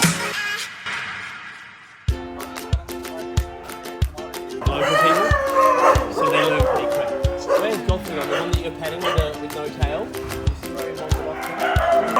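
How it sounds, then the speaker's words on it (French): Several dogs at a shelter in Sri Lanka bark and yelp in repeated sharp bursts, some near and some farther off, with someone talking over and between the noise. "je suis bien excitée de venir rencontrer tous les petits chiens puis de voir qu'est-ce qu'ils font. Déjà, vous les entendez."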